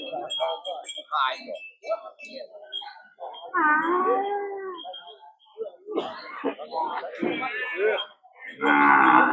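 Cattle and buffalo moo at an outdoor livestock market in Thailand. Several drawn-out calls rise and fall, some close and loud, mixed with people talking and other market noise.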